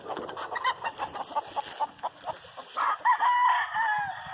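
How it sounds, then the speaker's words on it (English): A roundhead gamefowl rooster crows loudly toward the end, preceded by a run of short clucking calls from fowl nearby. "Leaper on Gavilan under a George Wood roundhead rooster."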